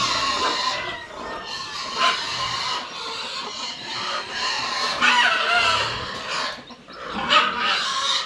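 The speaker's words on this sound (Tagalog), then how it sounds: "bibigyan po ni Tilat yung mga manok pong inahin at saka po yung mga sisiw na nagala natin" Hens cluck continuously while chicks peep in high chirps, a busy close flock of poultry sounds with rising and falling intensity.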